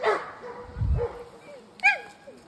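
A leashed dog barks and yelps in short bursts, fairly close, with low thumps and some faint background sounds between barks.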